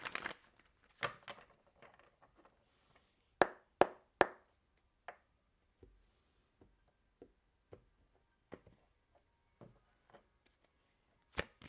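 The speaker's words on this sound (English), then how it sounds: "One more shuffle." Tarot cards shuffled by hand during a reading: a dense papery burst of riffling at first, then scattered crisp snaps and taps of cards being squared and set down, close and fairly quiet, with no talk.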